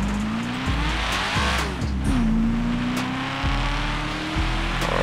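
A car engine revs hard and steadily in GTA5, the pitch climbing and dropping with gear changes, while tires squeal in short bursts over constant loud road noise, with no talking.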